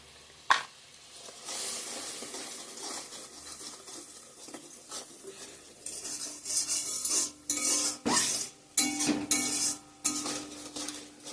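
Chili, turmeric, coriander and cumin powders fry in a pan while a spoon scrapes and stirs them, giving soft sizzling under repeated metallic scraping strokes that grow busier and louder toward the end.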